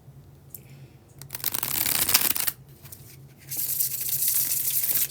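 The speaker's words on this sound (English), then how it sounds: "That was the bridge shuffle." Tarot cards get a bridge shuffle: two close, crisp bursts of riffling flutter, the second longer, with light handling rustle around them and no talking.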